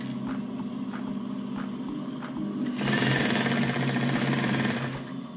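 A sewing machine runs steadily as it stitches the side seam of a homemade pillow or cushion with a half-inch seam allowance, its motor rattle close and continuous, speeding up and growing louder partway through.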